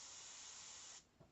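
An airbrush sprays paint in a steady, even hiss for about a second before cutting off abruptly, followed by a faint soft tap; close and clear with no talk.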